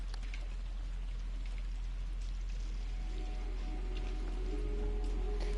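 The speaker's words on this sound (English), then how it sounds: "We're now by the creek." Creek water in the horror video game The Casting of Frank Stone flows in a steady, soft, hissing wash, continuous and fairly quiet throughout with a faint tonal layer joining partway.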